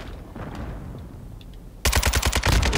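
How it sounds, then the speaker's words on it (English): A burst of rapid automatic gunfire from Call of Duty Modern Warfare II kicks in suddenly after a quieter stretch of game ambience, loud and close with fast repeating shots. "He shot me through the wall"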